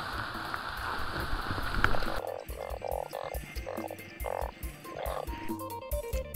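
Narrow-mouthed frogs croak in a dense roadside chorus during early-season rain, with overlapping rhythmic pulsing calls over a pattering rain background, fairly close and continuous.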